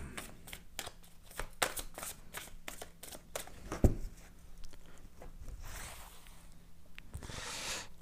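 A deck of tarot cards is cut and shuffled by hand, giving a rapid run of crisp card slaps and riffles that then thins into softer rustling and handling, close and fairly quiet.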